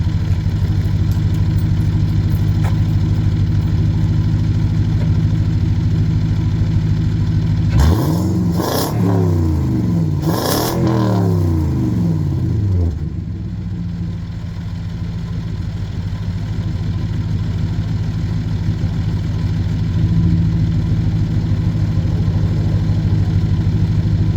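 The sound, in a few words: car engine idling and revving with K&N drop-in air filter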